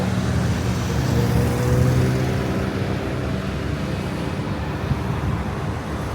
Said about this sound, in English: It's crazy traffic.